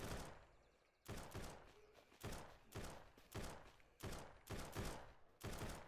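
Video game gunfire aimed at the player, heard as a string of about eight sharp bursts roughly every half to one second, loud and close over a faint background, with no talk.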